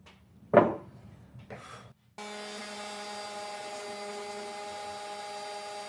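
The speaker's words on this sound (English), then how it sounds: "Now that I have them cut down, I'm gonna sand it" A power sander runs steadily on cut wooden pieces for a custom couch arm table, a constant close hum following a few quieter handling knocks and rubs.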